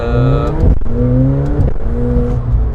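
A McLaren 720S engine revs loud and close, with pitch sweeping up and down through quick gear changes and a turbo whoosh between shifts.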